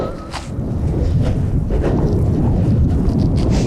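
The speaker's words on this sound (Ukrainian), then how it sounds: "Ох, і вітерець дме." Wind blowing outdoors by a river while fishing, a steady low rumble buffeting the microphone throughout, with no voices.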